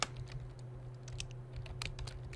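Rapid, uneven keystrokes on a computer keyboard, soft and close, a quick run of clicks with short gaps over a low steady hum, no talking.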